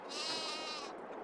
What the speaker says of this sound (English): and then let's go look at the sheep.